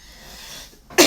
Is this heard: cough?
yes